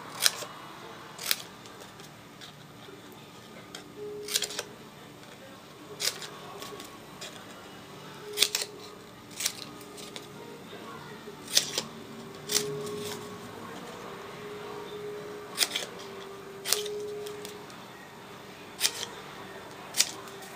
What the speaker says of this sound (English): I'm also going to cut in between the fold lines.